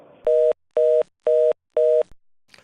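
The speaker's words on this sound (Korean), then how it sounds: "문자를 보내고 재차 전화를 했지만 연락이 닿지 않습니다" A telephone ringback tone sounds four times in even, evenly spaced pulses as an unanswered call goes through, followed by a faint click.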